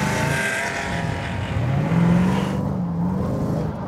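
A restomod sports car, such as an Alfaholics GTA-R 290, Jensen Interceptor R or Tuthill Porsche 911, accelerates hard on a track, its engine note loud and close as revs climb steadily under full throttle.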